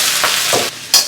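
Greens drop into a hot wok with ham sausage and hiss loudly, a bright continuous sizzle with a few quick stirring scrapes over about a second.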